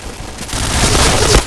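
Rapid gunfire from a Kriss S.V. Sakura submachine gun in a shooter video game, a loud, dense burst of shots building and sustaining to the end, with no talking.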